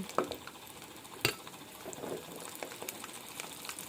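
Cinnamon sticks and garlic cloves are stirred in a cooking pot, soft bubbling and sizzling with scattered spoon scrapes and a few sharper clinks, fairly quiet and without talking.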